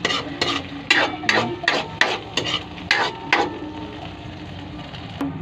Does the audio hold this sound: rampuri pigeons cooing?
no